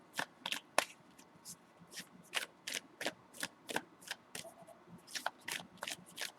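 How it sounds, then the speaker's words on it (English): Tarot cards are shuffled and drawn by hand in a quiet room, a series of crisp, close riffling snaps and flicks that come in irregular bursts with no voices. "Let me get one more card out on it."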